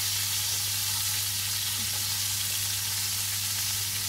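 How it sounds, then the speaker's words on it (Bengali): Chicken and shrimp frying in separate pans make a steady, even sizzle over a low electrical hum, with no talking. "এখানে মুরগির মাংস ভাজা হচ্ছে, এখানে হচ্ছে চিংড়ি মাছটা।"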